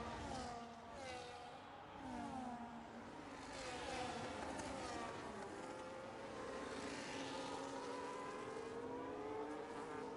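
Formula 1 cars race each other in an F1 video game at Silverstone, with McLarens battling closely. Engine whines rise and fall continuously, overlapping pitches sweeping up and down as cars accelerate and pass, steady and fairly faint throughout.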